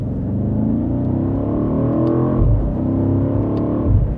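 A 2025 BMW M8 Competition Gran Coupe accelerates hard, its engine revving up loudly in a rising growl, briefly dipping at a quick gearshift before climbing again, close and continuous without speech.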